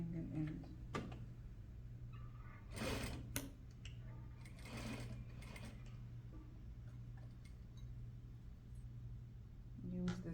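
A sewing machine runs a number 2 stitch with back stitching, attaching a Peter Pan collar to a bodice neckline, heard as quiet whirring and clattering in short bursts with mechanical ticks between, under low talk.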